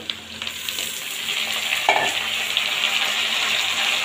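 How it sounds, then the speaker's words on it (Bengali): Cut pumpkin pieces hitting a hot pan of frying onion for a Bengali pumpkin-potato dish, a dense continuous sizzle up close with a few stirring clicks, no voices. "দিয়ে আবারও ঢাকা দিয়ে একটু ভাজা ভাজা করে নেব।"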